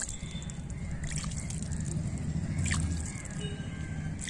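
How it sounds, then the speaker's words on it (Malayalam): Water trickles and drips onto bitter gourd seeds sown in a container on a terrace and covered with coir pith or potting mix, a close, continuous soft splashing lasting a few seconds. "നന്നായി നനച്ചു കൊടുക്കണം."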